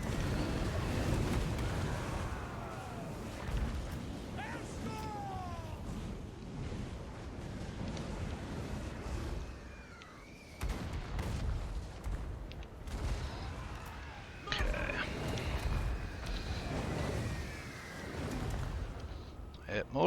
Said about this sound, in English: mortars are doing a good job here